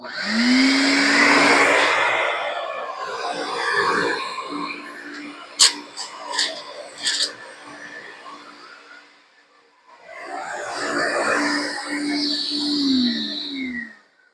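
An IPC Vertipro high-reach gutter vacuum blower runs outdoors with both motors on, a loud rushing motor whine that fades, pauses amid clicks, then surges again.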